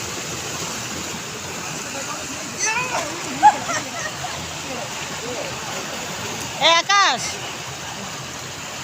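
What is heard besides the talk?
waterfall water falling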